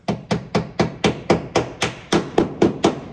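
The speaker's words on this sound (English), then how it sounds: "So I'm just gonna hammer these guys in and call her good." Steady, evenly spaced hammer blows driving truck fender flare fasteners, about a dozen sharp strikes in a row, close by and moderately loud with a solid woody knock.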